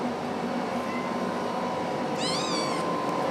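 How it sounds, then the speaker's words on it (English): Kittens with their mother at an animal shelter give a faint short mew, then a clearer high wavering meow near the end, over a constant noisy background hum. "And this is Azaria with her 3 kittens"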